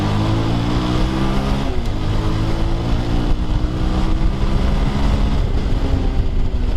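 A Bajaj Pulsar 220, a single-cylinder 220 cc motorcycle, accelerates hard with a loud throbbing engine note rising through the revs, heard close with wind buffeting and no speech.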